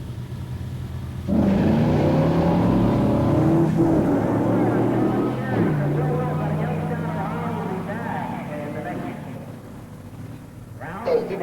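Stock muscle cars drag race at a pure stock event, a 1970 Buick GS Stage 1 automatic convertible against a 1968 Dodge Charger 426 Street Hemi 4-speed, loud engine roar launching and fading over about ten seconds while an announcer talks.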